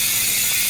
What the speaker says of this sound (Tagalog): ingay ng free hub body